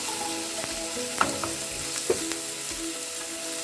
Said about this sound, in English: So I'm going to fry this till all my tomatoes are cooked.